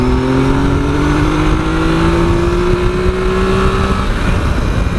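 A 2018 Triumph Tiger 1200 motorcycle engine revs hard after a downshift, a loud close rising howl holding for about four seconds before easing off, with no talk over it.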